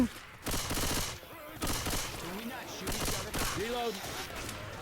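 A machine gun fires in Left 4 Dead 2 during heavy rain at a sugar mill, in several sustained bursts, loud and close, with a voice talking excitedly between and over the shots.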